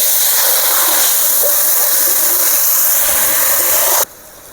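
Water poured into a hot pan while cooking shorshe ilish hisses loudly and steadily for about four seconds, then cuts off abruptly to a quieter simmer, with no voices.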